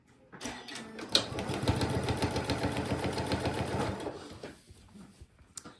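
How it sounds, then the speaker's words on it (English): A sewing machine fitted with a walking foot stitches through fabric in one close, steady run of rapid needle strokes lasting a few seconds, then slows and stops. "I'm going to take this to the sewing machine, and I'm going to sew it on this end"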